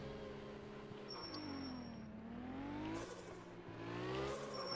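A drifting car in the video game Absolute Drift spins through burnouts. The engine holds a droning, revving note that sweeps up and down in pitch, and brief bright tire squeals cut in.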